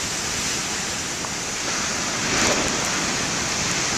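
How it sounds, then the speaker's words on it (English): Large ocean waves crash in a continuous loud roar of broadband surf, swelling into a heavier break partway through with no voices. "The way that wave crashed."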